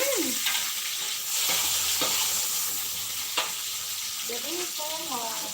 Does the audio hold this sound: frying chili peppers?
yes